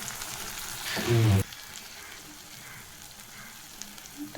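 Spice masala with chilli powder frying in a pan for a paneer dish, a continuous soft sizzle with a louder burst of stirring and scraping partway through, then settling back to a gentle crackle.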